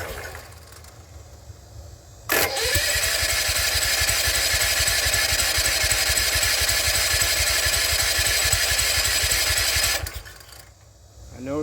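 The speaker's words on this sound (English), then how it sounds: "If I get it to start, I'm going to try throttling it up and down and just see how it sounds." Engine with a wobbly crankshaft catching on choke and starting, then running loud and steady with a fast, rough pulsing rhythm for several seconds before cutting off.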